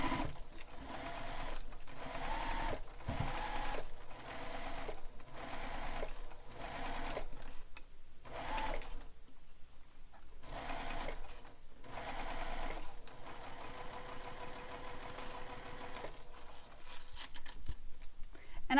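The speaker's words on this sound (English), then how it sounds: "Baste stitch this in place." A sewing machine runs in steady bursts, basting a bag panel in place during construction of a Manhattan Bag, close and fairly loud with brief pauses between runs and no voices.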